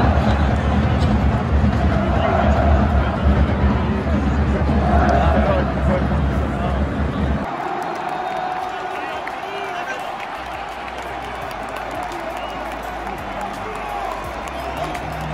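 Lyon supporters sing steadily through a home match against Juventus in their stadium, a dense crowd din that is loud and full at first, then drops to a softer, more distant hum of chanting and murmur.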